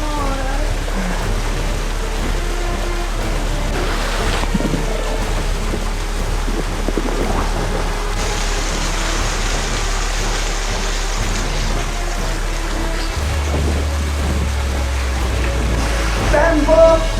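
A continuous roaring wash of falling water, loud and close, like standing beneath the Catafurco waterfall in the Nebrodi mountains of Sicily, with a low rumble running underneath throughout.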